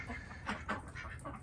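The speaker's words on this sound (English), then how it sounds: "I got my chickens, ducks, and pigeons in this pen." Chickens, ducks and pigeons in a 16 by 20 foot pen make soft clucks and calls in a few short bursts over a low background murmur, fairly quiet.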